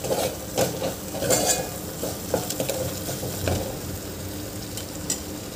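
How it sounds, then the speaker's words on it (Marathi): Spices roast in a pan for a pumpkin curry, giving a steady close sizzle, with repeated scraping and clinking of a spoon as they are stirred and mixed. "आता हे मसाले आपल्याला 2 मिनटं छान भाजून घ्यायचे आहे, मिक्स करून घ्यायचे आहे."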